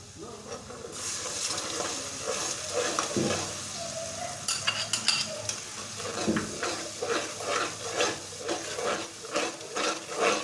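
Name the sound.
stirring yogurt into sizzling spices in a pan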